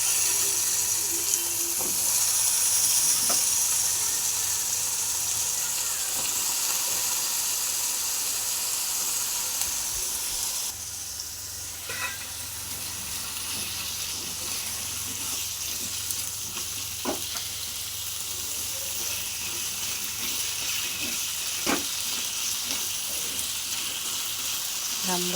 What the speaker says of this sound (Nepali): राम्रोसित फ्राई गर्नु पर्यो